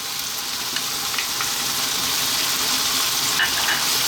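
Tomato paste sizzles and fries in a pan with sausage over medium heat, a steady, bright crackling hiss filling the whole stretch without pause, close and even, with faint stirring noises.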